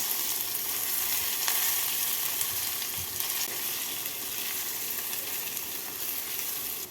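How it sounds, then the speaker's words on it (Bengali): Rice and dal dry-frying on low flame for oriya khichudi, a steady soft sizzle with faint stirring scrapes running throughout, close and continuous with no talk. "এবার লো হিটেই চাল আর ডালটাকে দু থেকে তিন মিনিট ভেজে নেবো"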